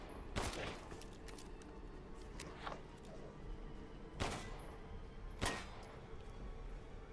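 Scattered gunshots in the video game Resident Evil Village, three or four sharp separated cracks over a quiet background, fairly faint.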